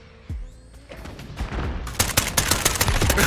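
Video-game weapon firing in a rapid automatic burst, loud close cracks repeating fast and building in intensity after a short thump and rising rumble.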